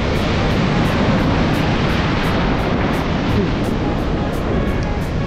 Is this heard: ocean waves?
yes